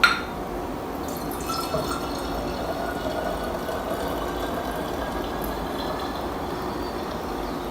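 A cup of warm water pours into a soap mix in a container, a steady close trickle that starts with a small splash and runs on evenly without voices.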